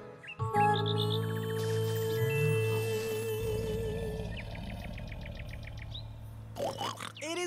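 Magic bird chirping in a Spanish-language Leo & Tig cartoon: bright whistled chirps and trills over a sustained tonal music bed, with tinkling accents, fairly loud and close throughout.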